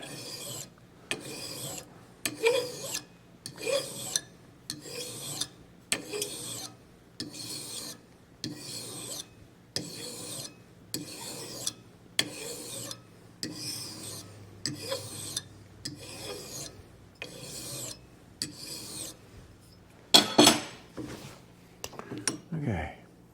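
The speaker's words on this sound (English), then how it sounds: "I'm catching a little of the vise with the file" A metal file rasps against a divot tool clamped in a vise, in about a dozen steady, evenly spaced strokes up close, with a brief metallic clink and scrape near the end.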